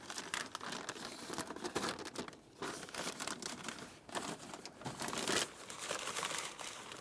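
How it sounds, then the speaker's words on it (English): Plastic vapor barrier being peeled away from a Honda Civic rear door panel, stuck on with black butyl tape: continuous close crinkling and crackling with sporadic tearing bursts over several seconds, no voices. "Take hold of that vapor barrier and start pulling it away"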